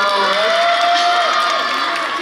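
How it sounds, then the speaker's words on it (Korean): A loud concert crowd cheering and clapping, with whoops and voices blending into a dense, steady roar. "여러분 박수 한번 보내주세요"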